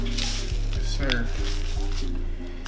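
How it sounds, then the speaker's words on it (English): Hot grease crackles and sizzles steadily as a giant Doritos-coated cheese stick fries, with sharp pops breaking through every half second or so, close and fairly loud, with a low hum and faint voices underneath. "Motherfucking grease popping"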